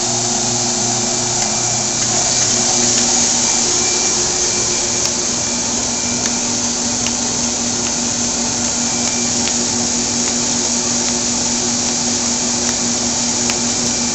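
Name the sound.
Kirk Rudy WinkJet shuttle feeder running, feeding envelopes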